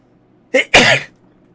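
A single sneeze up close: a short sharp intake followed immediately by one loud explosive burst, then quiet.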